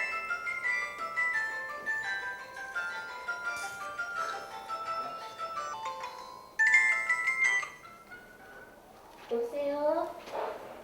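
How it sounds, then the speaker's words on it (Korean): Mobile phone ringtone chiming an incoming call in a repeating melodic pattern, moderately quiet, with a voice speaking briefly at the end. "하루에도 몇 통씩 아내에게 걸려오는 전화"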